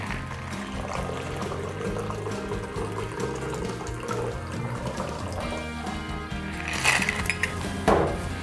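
A cocktail with ice, grapefruit and sweetener poured out of a shaker, steady liquid splashing with ice clinking near the end, close and fairly loud.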